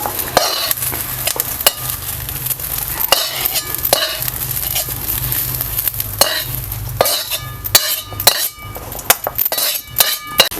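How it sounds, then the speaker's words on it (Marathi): Roasted green chillies and garlic are scraped and moved from a hot pan onto a plate, with repeated close clinks and scrapes of a utensil over a light sizzle and a low hum, no talking. "मिरची आता आपण इकडं ताटामध्ये काढून घेऊया"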